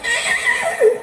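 A man imitates a horse's whinny with his voice, a wavering, nasal neigh held for about a second, during a comedy troupe's act at a village fair.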